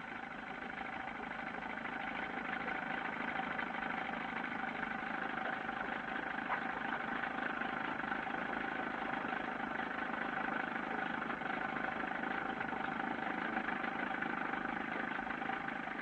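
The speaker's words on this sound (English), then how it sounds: "the small outboard churning slowly" A small outboard motor churns slowly on a boat, a steady, unchanging hum that drones on without a break, fairly quiet and alone.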